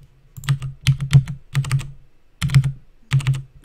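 Clattering computer keyboard keystrokes come in close, loud bursts of rapid typing separated by brief pauses.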